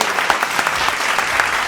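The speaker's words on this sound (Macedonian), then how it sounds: "Да го поздравиме со еден аплауз!" An audience welcomes a guest on a podcast studio set with loud, close, dense applause, a continuous wash of many hands clapping without a break.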